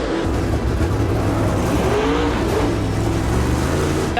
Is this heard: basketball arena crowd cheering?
no